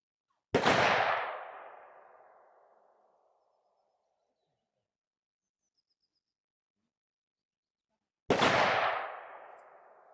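Two loud, sharp gunshots several seconds apart, each ringing out and decaying slowly in an open, quiet outdoor space.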